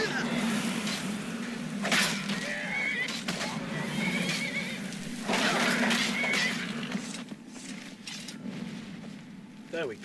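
An armoured horse in Skyrim whinnies amid battle noise, neighs rising at intervals over a busy game mix with crashes and a voice speaking now and then.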